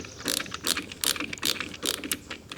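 A ratchet tightens screws on an Andersen casement window sash in rapid bursts of close, crisp clicking, several quick strokes in a row with short pauses between.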